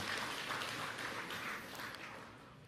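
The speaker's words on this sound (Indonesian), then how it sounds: "Tepuk tangan teman kita orang Bali nih." Audience applause at a Balinese public gathering for a governor's circular launch, a steady dense patter of many hands clapping that continues throughout and fades slightly toward the end, with no talking over it.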